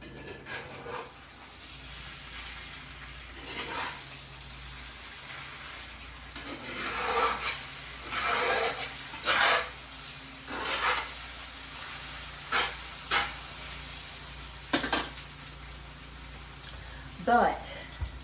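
Okra, squash and potatoes fry quietly in a pan with a soft, steady sizzle, broken by intermittent louder bursts like stirring or spattering.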